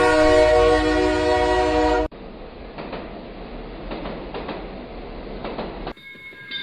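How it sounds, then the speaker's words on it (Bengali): Train rolling along the tracks at night, a loud sustained horn blast first, then a steady rumbling clatter of wheels, ending with a brief tonal sound. "ট্রেনটি দৌড়ে চলেছে তার নিজের গতিতে।"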